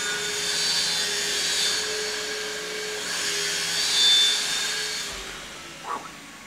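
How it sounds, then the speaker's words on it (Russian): A power saw at work during installation of a new kitchen, heard as a steady high whine from another room that swells and eases over several seconds, with a faint knock near the end. "Это пила, которая устанавливает нашу новую кухню."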